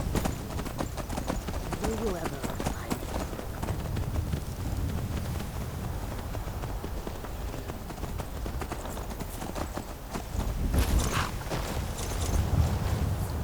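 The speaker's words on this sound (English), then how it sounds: "We get a nice, pleasant outdoor horse ride in the meantime." Horse hooves clip-clopping in a steady rhythm during a ride in the video game Skyrim, continuous and fairly close, with wind noise and a brief whinny late in the clip.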